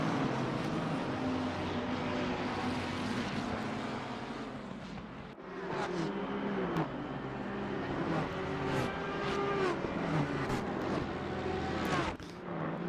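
Several race cars in the Live for Speed racing game run side by side on an LFM league race, a dense, steady engine drone with layered pitch sweeps as the cars shift and jostle, loud and continuous with no talk.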